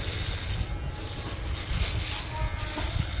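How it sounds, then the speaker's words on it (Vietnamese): An electric shaver cuts through beard hair with a steady, close, gritty buzz, its crackling rasp continuing without a break. "Các bác nghe cái tiếng râu em cạo nó đứt là các bác cảm nhận được nhá."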